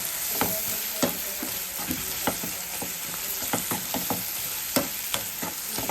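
Chopped tomatoes and onions frying in a pan, an even sizzle broken by frequent crisp taps and scrapes of a spoon against the pan, close and with no talking.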